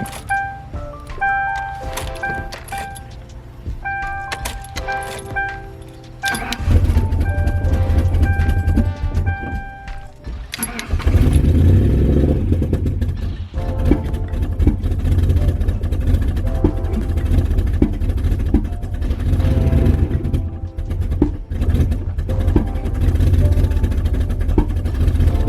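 An engine turned over, then caught and kept running, first a rough intermittent cranking with tonal whine, then a loud steady idling rumble that holds to the end.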